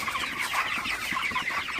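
Broiler chickens on a farm keep up a steady, continuous chorus of soft clucks and murmurs, moderately quiet and even throughout, with no talking.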